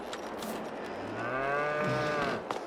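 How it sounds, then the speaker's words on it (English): A cow moos in one long, low, drawn-out call that rises and falls, with quiet outdoor farmyard ambience around it, in Farming Simulator 22 on PS5. "Here in the yard, hear the cows this morning."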